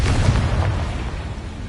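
The Incendio fire spell cast in the video game Hogwarts Legacy gives one loud, rumbling whoosh-like burst that fades away over a second or so, with no talking.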